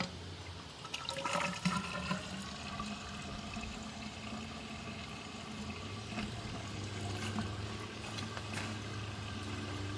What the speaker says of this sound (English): we'll let this water line fill up with water